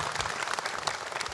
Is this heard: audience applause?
yes